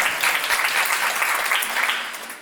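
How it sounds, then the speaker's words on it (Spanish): A live audience breaks into brief applause for Juanita, a lawyer who also acts, with dense clapping that fades toward the end. "Ese es aplauso, por favor."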